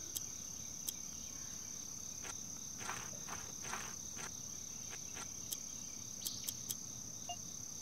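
In the video game Yuppie Psycho, insect bugs keep up a steady high-pitched buzzing drone, faint and constant, with a few soft clicks and steps scattered over it.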